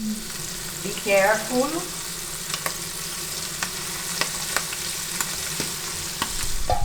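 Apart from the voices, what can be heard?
squid being stirred and frying in hot oil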